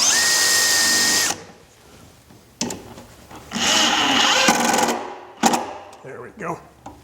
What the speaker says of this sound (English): bits have a little cone that slides down as you drill